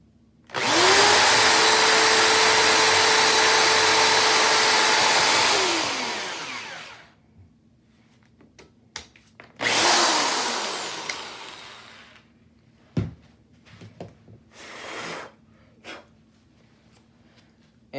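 Power drill boring holes into an HO scale model railway layout, a loud steady whine for about six seconds that winds down, then a second shorter burst, followed by faint handling clicks and knocks.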